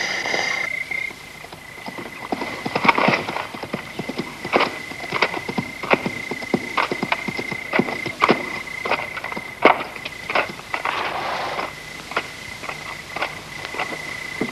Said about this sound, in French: Voilà un groupe d'hommes à cheval.